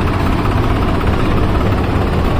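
A New Holland 4x4 tractor in the 50 HP class idles at a sugar mill gate, giving off a steady, close, low diesel rumble with constant vibration and no speech.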